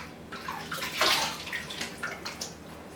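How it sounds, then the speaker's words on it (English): Running water splashes and sloshes as a face is rinsed during a skin care routine, a close, continuous wash with a few louder splashes. "so now you rinse."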